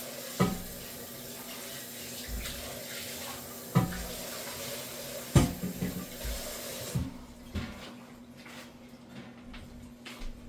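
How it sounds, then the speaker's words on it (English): Water from a kitchen tap runs into a sink while a pan is rinsed, a steady close splash with a few sharp knocks of the pan against the sink, and the flow eases off near the end. "Hold on 1 second, I just want to rinse down."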